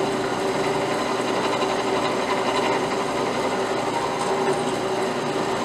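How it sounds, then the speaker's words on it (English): A drill bit spins steadily through a front axle housing while boring a vent hole for a 2305 axle, making a constant high whine that stays loud and even throughout. "Let the drill bit cut,"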